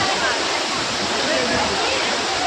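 Koshmal waterfall in hilly country, a steady, dense roar of falling water that fills the whole clip at constant loudness, with no clear voices above it.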